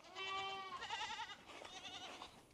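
Goats bleating nearby, a few wavering quavering calls in quick succession, fairly faint and without talk.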